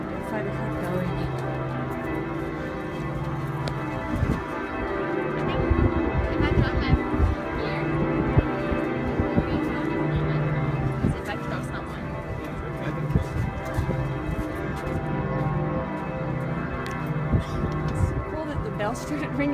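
Church bells ring from Giotto's bell tower at Florence Cathedral, sustained tolling tones heard up close under wind noise and voices of people talking at the top of the tower.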